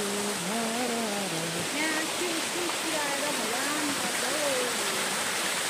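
A hillside waterfall at Shivathan in Terhathum pours with a steady, dense rushing roar, while a nearby voice talks and sings over it, partly imitating the splash.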